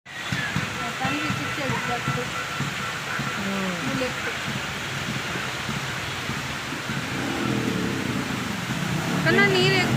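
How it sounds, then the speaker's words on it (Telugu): Heavy rain pours at night in Vijayawada near the port area, a dense continuous wash of noise with rushing water, while voices talk over it and the downpour swells louder toward the end. "Full waves, full rains."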